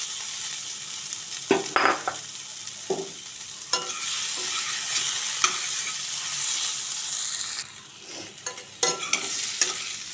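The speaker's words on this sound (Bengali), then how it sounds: "আবারও আমি একটু নাড়াচাড়া করে নেব।" Fried potatoes are stirred into sizzling, browned spices for a sweet-shop style potato curry, steady frying hiss with irregular scraping and clattering stir strokes of a spatula against the pan, close up and alone.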